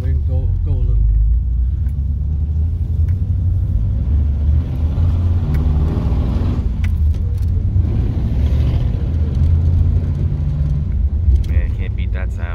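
A restored 1950 Ford two-door Shoebox sedan with a flathead V8 rumbles steadily while driving on a road, a low, loud engine drone heard from inside the car.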